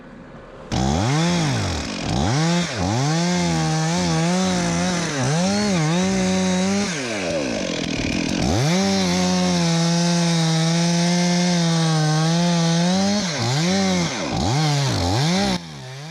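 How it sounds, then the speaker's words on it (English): A chainsaw cuts through a tree limb during a large tree removal, its engine loud and close as it revs and bogs repeatedly under load, pitch rising and falling for the whole stretch. "at this point I was struggling to get through it all with the saw that I had"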